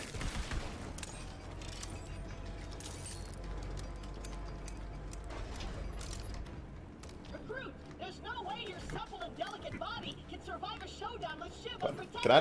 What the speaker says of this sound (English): It's like a shotgun revolver.